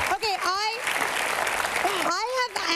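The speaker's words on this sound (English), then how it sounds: "Give her a round of applause." A talk-show studio audience bursts into loud, steady applause, with a voice talking over the start and again as the clapping fades.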